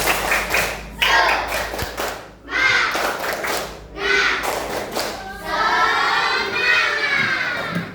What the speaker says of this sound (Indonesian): Tepuk semangat dulu ayo.